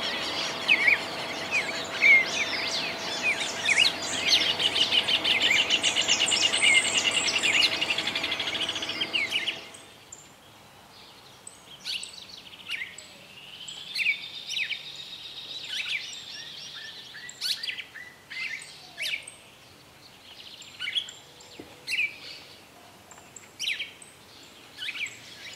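Wild birds in Esperanza, Santa Fe, Argentina chirp and call, with a dense chorus of overlapping song at first, then sparser scattered tweets and calls from several birds at varying distances.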